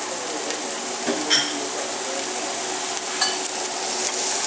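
Chopped white onion and tomato frying in a pan as the base dressing for Peruvian beans, a steady close sizzle with a couple of brief utensil scrapes and stirs, no voices.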